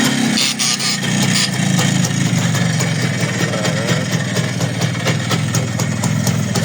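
A Minsk motorcycle engine runs at a steady, close idle with a continuous low throbbing pulse, holding even throughout with no clear rise in revs.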